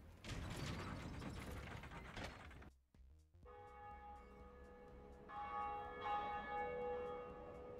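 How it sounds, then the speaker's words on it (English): Heavy mechanisms clank and ratchet in the video game Dark Souls, then a large bell rings out with sustained ringing tones that swell louder partway through. "Ring the bell."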